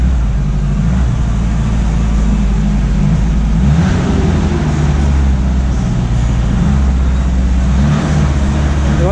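Lincoln Mark VIII with manual transmission spinning a wheel: a loud, continuous low mechanical drone with a wavering pitch that rises and falls, close and unbroken throughout.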